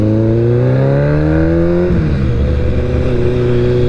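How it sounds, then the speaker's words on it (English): A loud, steady engine roar that revs up, drops, then settles into a constant drone, heard close with no voices. "I'm loving the sound of the bike now."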